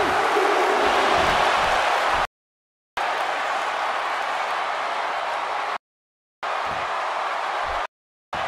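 A WWE 2K16 video game arena crowd roars in a loud, steady wash of cheering. The sound drops out abruptly several times in brief gaps.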